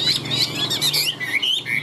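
A caged songbird sold as a pet, wild-caught and in full song, calls in a rapid run of high bright chirps and trills, close and steady throughout with no talk.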